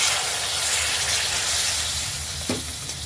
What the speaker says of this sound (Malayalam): വെള്ളം ചേർക്കണം